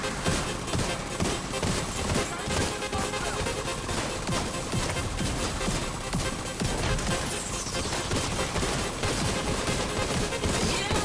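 Dense, continuous gunfire from The Division 2 video game, rapid overlapping shots and bursts at a steady loud level throughout, with no speech.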